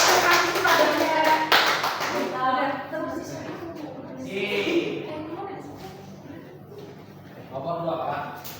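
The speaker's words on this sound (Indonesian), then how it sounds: "Tepuk tangan ya Pak." In a classroom a small group gives a brief burst of hand claps, sharp and close, that soon fades as voices take over and talk goes on to the end.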